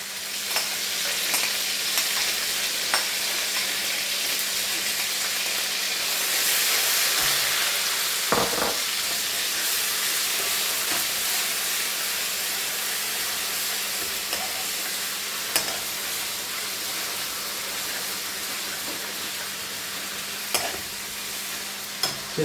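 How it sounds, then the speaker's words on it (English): Garlic and ginger paste frying in a pan for chicken jalfrezi, a long steady hiss of sizzling oil with occasional stirring knocks and scrapes, close and alone. "now I'm going to add the garlic and ginger paste."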